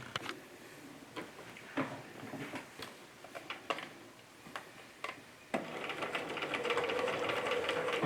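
A home sewing machine stitches a fabric face mask in short bursts of rapid mechanical ticking, separated by brief pauses, then settles into a longer steady run of stitching near the end.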